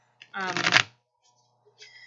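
A deck of tarot cards gets one quick, close riffle shuffle: a single dense burst of flapping card edges lasting about half a second, then near silence.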